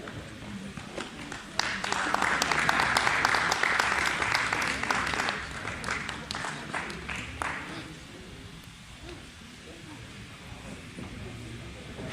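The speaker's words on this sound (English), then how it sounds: "Give them a great round of applause." A crowd at a Jersey cattle show applauds the heifer champions, loud clapping from about two to seven seconds that then fades into quieter room noise.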